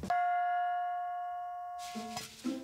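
A single struck gong rings out clearly with a long, steady sustained tone that slowly fades, then is cut off near the end by brief quiet sounds.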